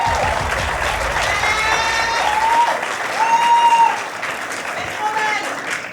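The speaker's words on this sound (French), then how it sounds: "Est-ce qu'on peut avoir un tonnerre d'applaudissements" An audience applauds at a formal evening event, with dense, continuous clapping from a crowd and a voice speaking over it in the background.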